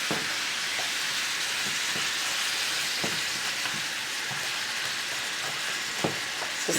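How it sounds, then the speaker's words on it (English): Peppers and onions stirred into a sausage skillet, hissing in a loud, steady sizzle like rain with scattered soft scrapes and clicks from stirring, close up. "And we're going to add in our peppers and our onions. Stir that around."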